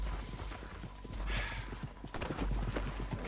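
Horse hooves clip-clop at a steady trot in the Red Dead Redemption 2 video game, moderately close, with a brief horse whinny in the background.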